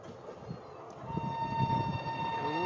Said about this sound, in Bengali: গুটি গুটি পায়ে এগিয়ে চলেছে আমাদের ট্রেন।